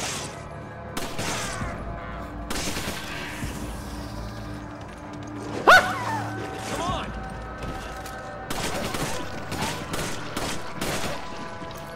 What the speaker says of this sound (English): Oh, look, more machine gun.